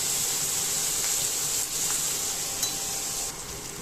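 Onion frying in a pan for pasta and chow mein, a steady bright sizzle with soft hissing that holds close and even before easing slightly near the end, no voices.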